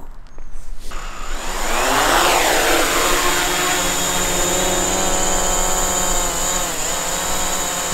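DJI Mavic Pro drone propellers spin up into a loud, steady high-pitched whir with a rising then settling pitch, close by and continuous, with no voices.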